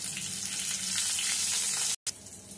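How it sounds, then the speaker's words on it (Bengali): Black cumin seeds and green chilies crackle in hot oil with a dense, steady, close sizzle and faint spitting pops, broken by one brief moment of silence before the hiss resumes. "কালো জিরে আর কাঁচা লঙ্কা ফোড়নটা হয়ে গেছে"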